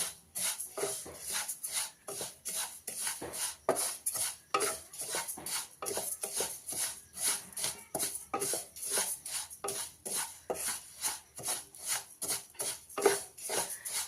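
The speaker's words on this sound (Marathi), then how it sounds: "सर्वप्रथम आपण तीळ भाजून घेऊया। तीळ चांगलं आपण भाजून घेऊया।" Sesame seeds dry-roast in a hot pan while a spoon stirs and scrapes in a steady fast rhythm, giving dense clinks and rasps throughout with no voices.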